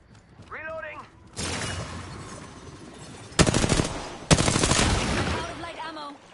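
Automatic weapon fire in the Apex Legends video game, with long rapid bursts and sharp loud volleys. A player talks over the gunfire and between bursts.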